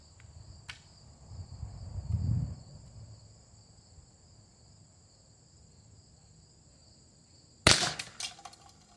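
An Umarex T4E HDS double-barrel less-lethal pistol fires one sharp, loud report from its left barrel outdoors, with a brief rattle after it and crickets chirping steadily in the background.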